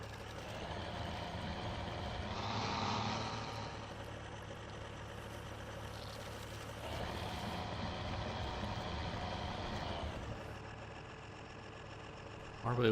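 A truck engine strains in low gear while stuck in mud in a modded Spintires mud challenge, a steady low drone that swells twice, with someone talking over it.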